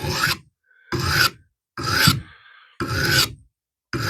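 Coarse side of a hand file rasping across a hedge trimmer blade to sharpen it, four or five separate loud scraping strokes with short pauses between, close up and without any voice.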